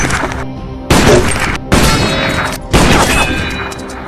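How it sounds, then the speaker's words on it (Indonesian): Sniper rifle shots in a film hitting targets: three loud, sharp blasts spaced about a second apart, each followed by a long, rumbling echoing tail, with no speech. "menembak seluruh target secara tepat sasaran"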